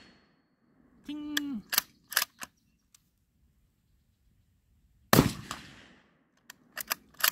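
A short-barreled BCL Bison .223 rifle fires at a range, with sharp, close reports coming in scattered clusters separated by stretches of near silence.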